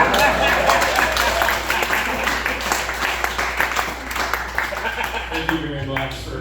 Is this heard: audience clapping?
yes